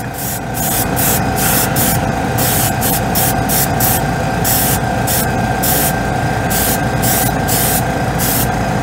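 An airbrush or spray can laying a final coat of white paint onto a scale model, a loud continuous hiss interrupted by rapid rhythmic bursts and pauses, with a steady tonal hum beneath and no talking.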